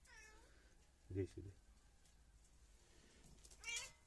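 A cat meows a couple of times, short and fairly close, with a faint higher call near the end over quiet background.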